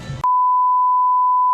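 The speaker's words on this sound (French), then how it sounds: "je vais biper absolument tout ce que je vais dire" A steady electronic censorship bleep, a single pure tone held for over a second, cuts in loud right after a short burst of speech, masking talk at a Lorient Celtic festival.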